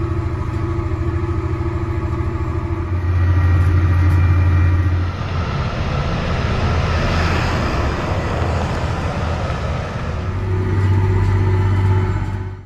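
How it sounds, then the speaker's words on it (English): A large tractor pulls a 5-shank ripper through compacted end rows in a field, its engine a loud, steady, close drone that swells twice. No one speaks over it. "I know this tractor might be a little big for this 5-shank ripper"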